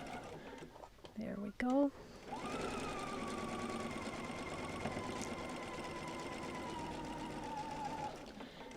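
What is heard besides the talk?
sewing machine stitching diagonal seam, chain piecing quilt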